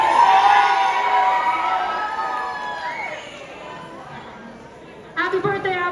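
A large crowd at a high school holiday concert yells and shouts for birthdays, loud at first and slowly fading. A short burst of voices returns near the end.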